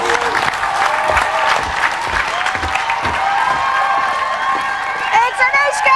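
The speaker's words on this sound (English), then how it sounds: "Can you hear the cheering?" A crowd gathered outside the Big Brother UK house during a live eviction cheers, whistles and claps, a loud, continuous roar with high shrill whistles and shouts rising over it, and voices talking nearby.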